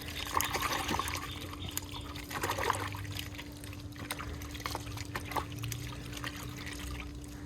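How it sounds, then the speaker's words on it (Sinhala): Water trickling and pouring into a shampoo packet during a home bike wash, a faint, steady running stream with small splashes and a low background hum, no talking. "මේ පැකට් එකේ ඇතුළේ තියෙන ඔක්කොම ටික ගන්න වතුර ටිකක් දාන්න නැත්නම් අපරාධයි."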